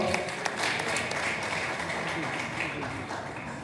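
Audience applause for the guest slam poet Gaby at a 2021 eloquence tournament, a dense, steady wash of clapping lasting throughout with a few voices rising over it.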